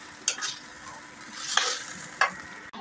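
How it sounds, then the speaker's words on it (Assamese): Food frying and being stirred in a pan at home, with soft steady sizzling and a few sharp scraping strokes of a spoon, close and alone with no voices. "অকণমান ভাজি লৈছোঁ এইখিনি"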